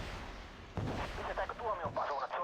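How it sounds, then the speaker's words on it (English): HE rocket salvo from a Smerch-like launcher streaking in during Wargame: Red Dragon, a sudden loud rushing onset at under a second followed by a rapid string of crackling, whistling impacts, with no talk. "And here come the rockets."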